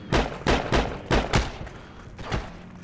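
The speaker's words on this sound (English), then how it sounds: "I heard a shit ton of gunshots." Bursts of video game gunfire crack out in quick clusters, several loud shots in a row, then a lone later shot, with no voices.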